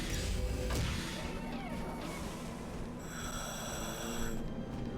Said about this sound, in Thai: หายใจเป็นดาร์คเวเดอร์ใช่ไหมมึง